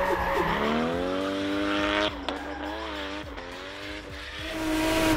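A drift car on a run in Mongolia, its engine revving with harmonic whine, then popping and crackling on throttle lift in sharp bursts, with some tyre noise, fairly near and loud.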